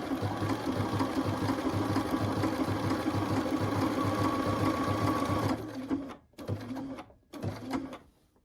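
A sewing machine runs steadily while stitching an AccuQuilt shamrock fabric applique, a fast even mechanical whir for several seconds, then stops and restarts in two short bursts.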